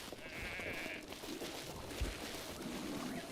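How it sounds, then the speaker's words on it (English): Sheep penned in a village enclosure in Zelda: Breath of the Wild give a short bleat early on, moderately near, over a steady background wash. "They straight up have some sheep penned in over here."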